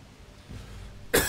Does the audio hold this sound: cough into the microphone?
yes